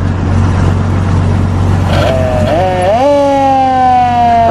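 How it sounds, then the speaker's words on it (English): Siren of a modern fire truck at a downtown Gresham, Oregon teddy bear parade, rising and warbling loudly after a brief stretch of idling engine rumble, up close and unaccompanied by talk. "You want to hit the siren for me?"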